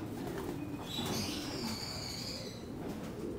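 Domestic pigeons being fed grain, soft low cooing and light rustling close by, with faint higher chirps drifting over a steady background.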